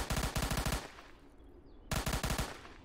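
Rapid automatic gunfire in a Roblox war game, two loud close bursts of fast repeated shots separated by a short gap, with no talking.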